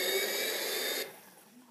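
A 2012 Hess toy truck plays its electronic ignition sound effect, a short bright whooshing hiss from a small speaker that cuts off abruptly after about a second, leaving a faint fading tail.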